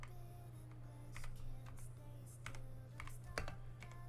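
Quick, uneven clicking of typing on a budget computer keyboard, fairly faint and close, over a steady low electrical hum.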